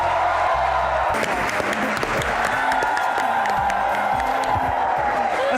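A studio audience at a comedy talk show breaks into loud, sustained applause with cheers and whoops, bursts of clapping layered over a constant crowd roar.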